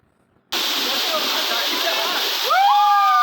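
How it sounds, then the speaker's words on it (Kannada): Kapila Tirtha waterfall on a hill at Kabbaragi in Koppal district, a dense steady roar of falling water that starts abruptly and continues loud and close, with brief whistle-like chirps near the end. "ಕಬ್ಬರ್ಗಿ ಗ್ರಾಮದ ಬೆಟ್ಟದ ಮೇಲಿರುವ ಕಪಿಲ್ ತೀರ್ಥ ಜಲಪಾತ"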